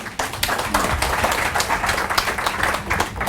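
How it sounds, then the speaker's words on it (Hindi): Audience applause at a motivational training session in Mumbai, a dense continuous patter of many hands clapping, fairly loud and steady for a few seconds without speech. "इसलिए लोग देर से तालियां मारते हैं"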